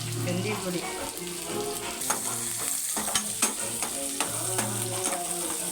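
Eggplant curry base of onion and tomato sautéing in oil with fenugreek powder added, a continuous close sizzle broken by scraping stirring strokes from a spoon in the pan.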